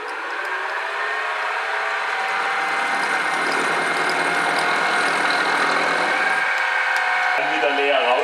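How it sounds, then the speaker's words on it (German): A mini milling machine cuts steel with a continuous, close mechanical whine and droning hum that holds steady before the cut eases off near the end. "Und jetzt müssen wir immer so fräsen, der Fräser dreht so rum, dass das Material gegen die Fräsrichtung läuft."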